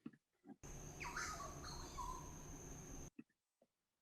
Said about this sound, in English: And other types of birds.